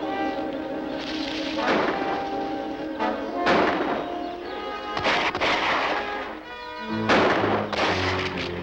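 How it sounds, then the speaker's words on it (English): Gunshots ring out in a jungle, several sharp bangs with echoing tails spaced a second or so apart, fairly loud over a background of music. "I'll take off as soon as I hear the shooting."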